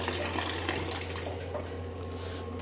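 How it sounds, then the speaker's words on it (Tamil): Tap water running into a vessel in a home kitchen, a steady close gushing stream with a constant low hum underneath, no talking. "தண்ணி நிறைஞ்சிடுச்சு"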